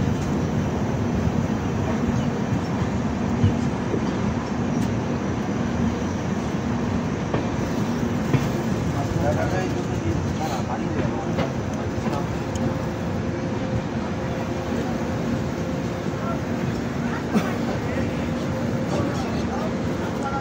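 A train pulling into Lal Kuan Junction, heard from on board: steady low rumble and wheel noise that continue throughout, with scattered clanks and faint voices.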